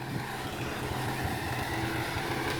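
A Mahindra 275 tractor pulls a 5-tyne cultivator through a field, its diesel engine a loud, constant, close-up drone with steady low-frequency pulsing and a broad rushing noise throughout.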